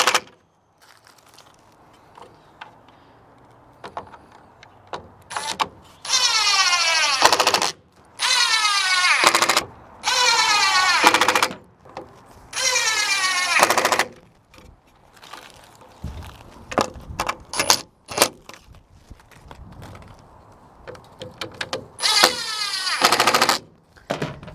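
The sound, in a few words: impact driver tightening T25 screws on truck bed extender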